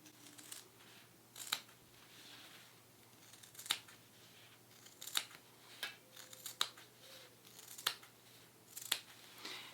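Scissors snip through fabric while a tote bag pattern is cut out, with sharp, separate cuts at an irregular pace in a quiet room, fairly close and alone.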